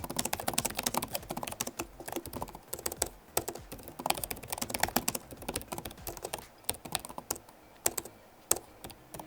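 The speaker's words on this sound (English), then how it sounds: "it does give you a clear tactile sound when you type on it" Rapid, crisp tapping of keys on a Lenovo Legion 7 16-inch gaming laptop keyboard, steady and continuous at close range, with no voices.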